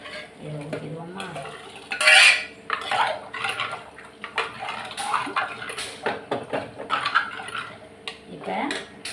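Cooked toor dal being mashed and stirred in a metal pot for green chilli rasam, with repeated scraping, clinking and knocking of a ladle against the pot's sides, close and irregular, a voice speaking briefly near the start.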